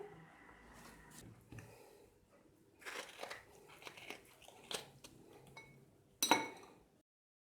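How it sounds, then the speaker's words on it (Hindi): Malta oranges are cut with a knife and squeezed by hand in a quiet kitchen, giving a series of soft, close crunches, squishes and small clinks, with one sharper knock near the end. "अब माल्टों को काट के इनका जूस निकालते हैं।"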